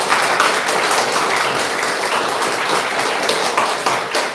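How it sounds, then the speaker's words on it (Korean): Warm applause from a church congregation at a Sunday service, welcoming a missionary couple serving in Bangkok, Thailand; dense, steady clapping fills the hall without a break. "우리 나오실 때까지 따뜻한 박수로 환영하도록 하겠습니다"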